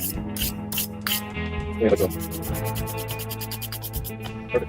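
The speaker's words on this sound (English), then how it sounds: "I'm just holding it and cleaning it with a wire brush" A Ducati 999 brake part is scrubbed by hand with a wire brush: quick, scratchy bursts of bristle strokes, loudest at the start, over a steady tonal background hum.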